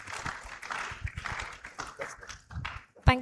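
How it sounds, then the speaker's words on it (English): Audience applause at a World Environment Day debate and symposium: a room of people claps in a patter of moderate volume that thins out, then ends in a sudden loud thump. "Another round of applause for him."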